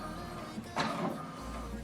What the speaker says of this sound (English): what it's doing now is printing the alignment